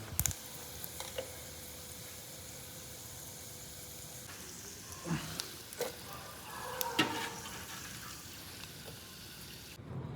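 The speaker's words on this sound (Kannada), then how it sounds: "ಚಿಲ್ಲೀಸ್ ಆನಿಯನ್ಸ್ ಏನೋ ಲಾಸ್ಟಿಗೆ ಹಾಕ್ತೀನಿ ಫ್ರೈ ಆಗಲಿ ಅಂತೇಳಿ" Chillies and onions fry in mustard oil with a steady close sizzle throughout, broken by a few louder crackles and stirring scrapes near the middle.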